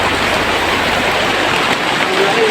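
Steady rain hisses evenly throughout in a video game, a dense wash of falling water with no clear speech over it.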